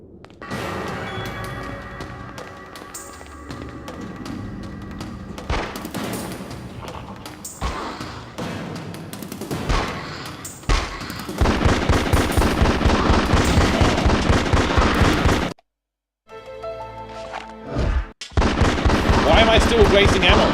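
Gunfire from a gun in the PS2 video game X-Files: Resist or Serve, rapid repeated loud shots in bursts with a brief silent gap, amid game music and effects.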